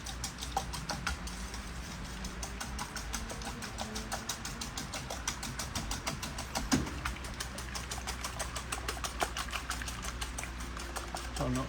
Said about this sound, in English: So I've got 5 eggs. I'm going to whisk them up.